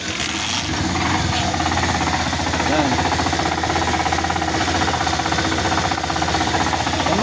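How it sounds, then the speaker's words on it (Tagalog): A Kawasaki Barako 3 FI motorcycle engine idles with a loud, steady, rough rumble and a rattly knocking texture that runs throughout, close up, while someone speaks briefly over it. "Kaya ito mga idol, pandarin natin para mapakinig nyo yung andar."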